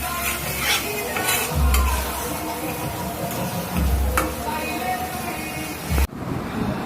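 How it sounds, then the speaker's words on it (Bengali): Potatoes frying in a pan with fried dried fish (shutki), a steady sizzle with stirring and utensil scrapes against the pan, close and fairly loud, cutting off abruptly near the end. "এই শুটকি এগুলো সব ভাজা ভাজা কইরা এই যে আলুটা এখন ছেড়ে দিল"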